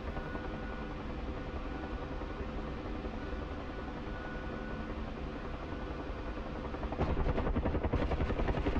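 A Bell UH-1 helicopter in a flight simulator game, with a steady, dense rotor and turbine drone that holds evenly, then swells louder and rougher near the end, heard alone with no talk.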